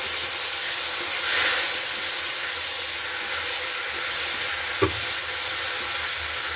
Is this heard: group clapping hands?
no